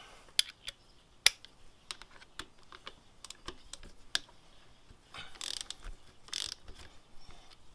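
A ratchet wrench loosening the wheel bolts on a 2016 KTM 1290 Super Adventure motorcycle, with sharp clicks and short ratcheting bursts, close up and with no talk.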